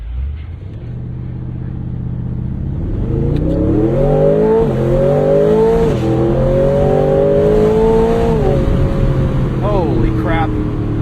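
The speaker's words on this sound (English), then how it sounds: "let's stop and do a race start" A 2026 Aston Martin makes a race start with traction control off. The engine builds from a low idle into a loud, rising roar with sharp gear changes, and a voice speaks faintly inside the cabin.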